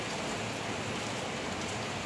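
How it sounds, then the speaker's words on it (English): Steady rain on an overcast day in Taipei, a soft, even hiss of falling drops throughout, faint and continuous, with no voices. "I associate this kind of overcast, rainy weather with Taiwan"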